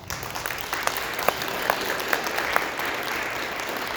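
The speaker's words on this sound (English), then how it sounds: "Round of applause." Staff at a regional stand-up meeting give a round of applause, a sustained, even clatter of many hands with a few sharper individual claps standing out, close and fairly loud.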